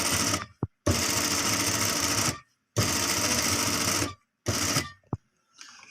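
A tailor's sewing machine stitches a garment neckline in three long, loud, steady bursts, separated by short pauses, with a brief final run at the end.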